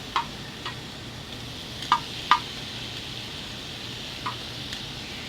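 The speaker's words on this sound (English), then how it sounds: "We're going to get this bacon in here and get it rocking." Bacon frying on a FIREDISC cooker, a steady soft sizzle with a few sharp ticks and utensil taps scattered over it, close and fairly quiet.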